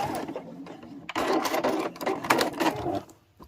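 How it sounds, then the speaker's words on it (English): A sewing machine runs a short, close burst of stitching across the corner of a fabric mug rug, starting softly, then whirring loudly for about two seconds before stopping. "And then just sew off the corner again."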